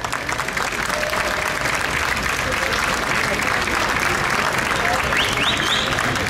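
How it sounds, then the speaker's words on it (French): Outdoor applause for the fair queen at a 15 August parade in Cambrai, with a crowd clapping loudly and steadily for several seconds, some voices mixed in and a brief whistle-like tone near the end. "je pense qu'on peut l'applaudir très très fort"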